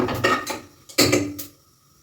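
A metal ladle clatters against pots and pans in a home kitchen while rice bath is cooked, giving several sharp, ringing knocks in quick succession followed by a lingering metallic ring that dies away.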